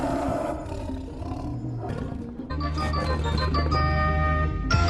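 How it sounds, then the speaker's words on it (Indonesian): A tiger roaring during a struggle with a woman, a loud sustained growling roar over dramatic music, close and forceful throughout. "Yati yang sedang sibuk bergelut dengan harimau"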